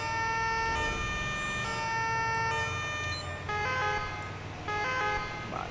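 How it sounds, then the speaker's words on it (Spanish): A steady electronic ambulance siren in a video game wails continuously over a low engine rumble, with tonal blasts shifting pitch in stepped patterns. "Yo soy partidario de poner pocas veces las sirenas"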